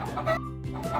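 A chicken clucks in short, close, loud bursts, three choppy calls with brief gaps between them and no talking.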